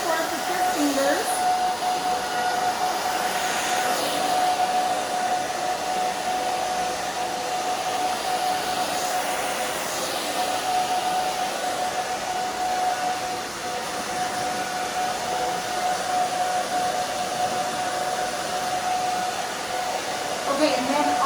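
A hair dryer runs steadily and close for the whole stretch while a pixie-cut hairstyle is dried, its constant whooshing drone holding a thin tone, with brief faint talk mixed in.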